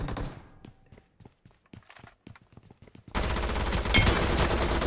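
Gunfire from the battle royale game BGMI/PUBG: a run of sharp, separate shots and thuds, then a loud, dense burst of sustained automatic fire that fills the last part.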